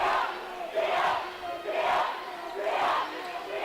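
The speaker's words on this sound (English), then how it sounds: "The Centralia D-up cheer goes." Centralia fans at a basketball championship game against East St. Louis chant the D-up cheer, a big crowd roaring in rhythmic swells that rise and fall about once a second.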